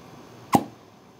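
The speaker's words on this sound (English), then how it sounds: "that is the sound of detachment from a vacuum from my arm" A single short pop as a vacuum container detaches from the skin of an arm, one sharp suction release standing alone against quiet background.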